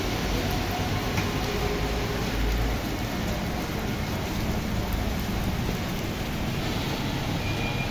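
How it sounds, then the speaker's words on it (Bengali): Heavy rain pours down steadily and loudly, a dense continuous roar with no pauses. "এরকম বৃষ্টি শুরু হয়েছে, দেখতে পাচ্ছেন অনেক বৃষ্টি"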